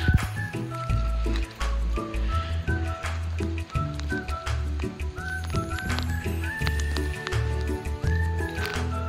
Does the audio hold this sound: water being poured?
yes